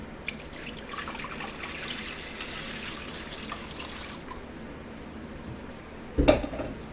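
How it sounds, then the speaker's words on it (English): Water and apple cider vinegar pouring into a cooking pot in a home kitchen, a steady close trickle running for about four seconds and then easing off, with a short louder splash near the end. "And I'm just going to pour it in my pot."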